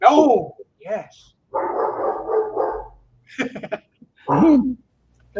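Dogs bark in several short bursts, loud and close, with a person talking in between the barks.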